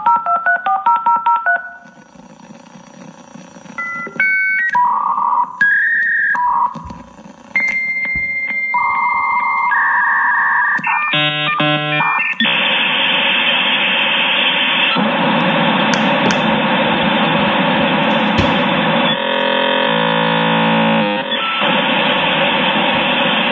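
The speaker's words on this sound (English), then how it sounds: "let's fire up the dial-up." Dial-up modem connecting: dialing tones and beeps, then a burst of handshake chirps followed by loud, harsh hissing static that runs steadily to the end, with no voices.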